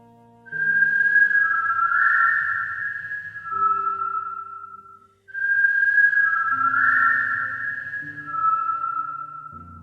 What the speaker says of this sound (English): we heard the whistling.